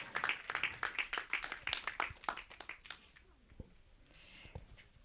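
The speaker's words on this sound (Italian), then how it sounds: "Facciamo applauso ai ragazzi" A small group claps enthusiastically for a few seconds, then the applause thins out and fades to scattered claps.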